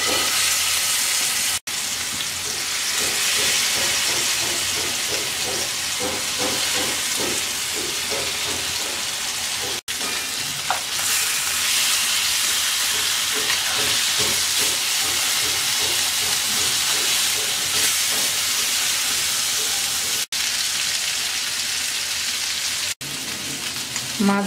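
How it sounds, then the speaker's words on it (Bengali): Shol fish fries in hot oil in a pan, a loud, continuous sizzle and crackle close up that carries on for the whole stretch with only a few brief drops. "তেলটা গরম হয়ে গেছে, মাছটা দিয়ে দিচ্ছি।"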